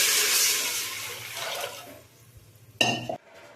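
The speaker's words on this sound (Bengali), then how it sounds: "সেই অনুযায়ী আমি এখানে তিন বাটি জল দিয়ে দিলাম" Water from a bowl goes into a pot of rice and vegetables frying in oil. A loud gushing pour fades away, followed by a short, sharp splash and sizzle near the end, close up.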